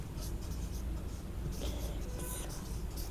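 A pen scratches out a maths answer during a class 6 lesson on factors, soft quick strokes and taps close to the mic, with faint background noise.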